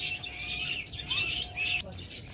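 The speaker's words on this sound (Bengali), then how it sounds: "টিয়া পাখির বাসার মধ্যে চিল এসে গেছে বলে আর চিল্লাচ্ছে সব পাখিগুলো" A flock of parakeets screeching from a tree as a kite raids their nests: faint, quick chirps and calls come in short bursts, spread out and distant, over soft outdoor background noise.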